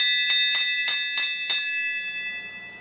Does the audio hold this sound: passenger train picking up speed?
no